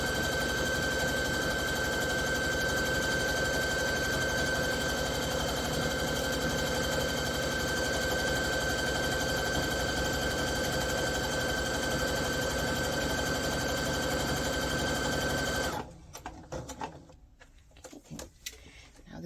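A sewing machine stitching a pillow made from show shirts, a loud steady mechanical whir running continuously for a long stretch before stopping, followed by a few faint handling clicks.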